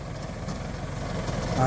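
A tractor engine idles and hums steadily up close while raising its front bucket to lift a person, a continuous mid-low drone that swells slightly at the end.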